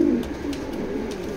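Chocolate grizzle pigeon cooing in low, soft, continuous murmurs, fairly close and alone with no speech.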